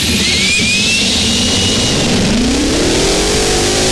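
A two-stroke Detroit Diesel engine in a truck screams at high revs, a loud, continuous mechanical whine with rising pitch sweeps, heard alone and close up.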